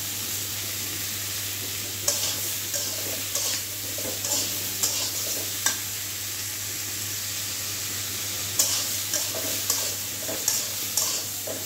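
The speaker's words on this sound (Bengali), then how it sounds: "নুন দিয়ে ভালো করে আমি সবজিগুলো কষিয়ে নিয়েছি।" Salted vegetables sizzle in a pan for a Bengali prawn-and-vegetable dish, with a constant hiss broken by sharp, scattered scrapes of a spatula stirring up close.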